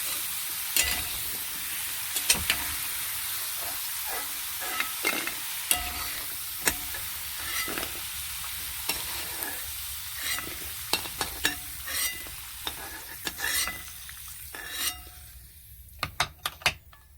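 Diced potatoes being fried and stirred in a pan, with a steady low sizzle broken by frequent sharp scrapes and clicks of a spoon against the pan, loud and close, and no talking.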